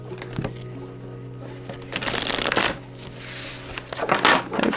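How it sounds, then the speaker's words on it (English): A brand-new, slightly sticky Tarocchi di Michelangelo tarot deck is shuffled by hand, with quiet handling followed by bursts of riffling card flutter, close and crisp, coming in a few separate rounds. "I would probably shuffle a little better if I split it into two sections"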